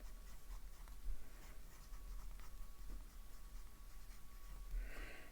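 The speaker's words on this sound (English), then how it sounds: "I'll just write black cartridge." A fountain pen filled with a black cartridge scratches softly across paper in short, faint strokes, close up in a quiet room with no talking.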